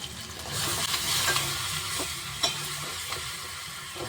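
Curry leaf paste fries in a pan, giving a soft, steady sizzle under repeated stirring, with a few sharper scrapes and taps of the utensil against the pan.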